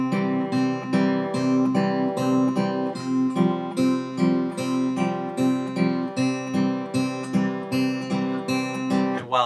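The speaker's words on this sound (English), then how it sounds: "If we played it on the beat, everything on the beat, it would sound like this." Fingerstyle acoustic guitar pattern with every note struck squarely on the beat, producing an even, steady run of plucked chords and bass notes, loud and close, with no voices.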